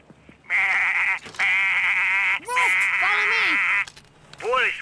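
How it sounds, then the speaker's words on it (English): Goats bleat in the video game Payday Goat Simulator, giving loud, close, drawn-out nasal bleats, about four in a row with short pauses between them. "just goat noises"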